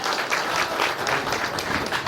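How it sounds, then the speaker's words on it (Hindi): Applause at a Hindi-language political rally of the Azad Samaj Party in Bhandariya block, a steady crowd clapping that fills the whole short stretch, fairly loud and without speech over it. "तो उस चंद्रशेखर आजाद जी के लिए एक बार जोरदार ताली और स्वागत करना चाहूंगा"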